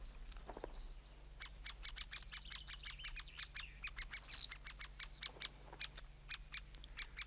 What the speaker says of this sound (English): the swifts are prospecting for next year